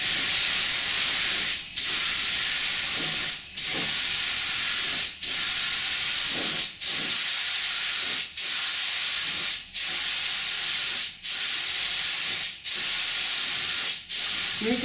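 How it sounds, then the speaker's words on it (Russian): A spray gun lays a primer coat over nitro putty in steady hissing bursts, about nine long sprays each broken by a brief pause, loud and close with no talk. "Первый слой идем напылом."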